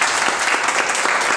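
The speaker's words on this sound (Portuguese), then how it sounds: "Aplausos para ela também" Dense, steady applause from a studio audience on a Brazilian municipal TV public-debate programme about public education, filling the short moment at close range without talk.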